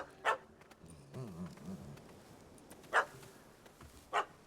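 Dog barking in the video game The Witcher 3, three sharp barks spaced apart, sounding moderately near over quiet outdoor ambience, with a brief low vocal murmur between them.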